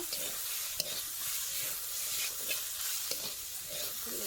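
Leafy greens fry in oil in a pan over a wood-fired stove while a utensil stirs and scrapes them, giving a soft, steady sizzle with a few sharp clinks.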